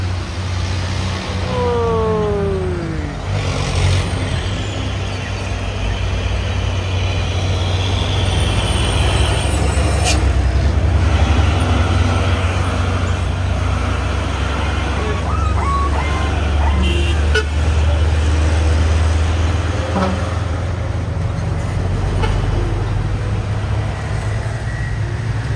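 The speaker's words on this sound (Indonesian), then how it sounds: "ini trailer ini ya bosku, trailer Puso Oren 6x4 ya, membawa kontainer 40 feet ya, 2 unit" An orange Fuso 6x4 trailer truck hauling two 40-foot containers rolls past on a road, a loud steady heavy-engine rumble filling the whole stretch, with a brief horn-like toot and other traffic noise near the start.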